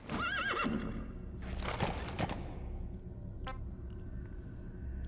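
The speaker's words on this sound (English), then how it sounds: "Alright, I got a horse." Horse neighing and clip-clopping hooves in the video game Metal Gear Solid: a loud whinny at the start, then a rolling run of hoofbeats over a steady low rumble, fading to quieter game ambience.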